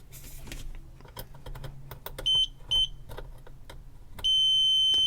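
Continuity beeps from a multimeter probing pins on a broken SNES cartridge board: two short tones, then a longer sustained beep, over faint scraping and tapping of the probe.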